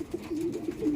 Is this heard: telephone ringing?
no